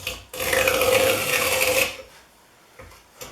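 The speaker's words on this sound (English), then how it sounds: "I'm peeling maple." A plane axe shaves a thin 3/16-inch-wide strip of maple, giving one sustained rasping, scraping stroke of about a second and a half up close, then fading to quiet with a faint scrape at the end.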